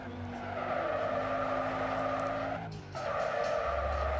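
A modified Toyota 07 (VAZ-2107) car drifts with loud, sustained tire skidding and a steady engine drone, the screech dipping briefly before resuming at full strength.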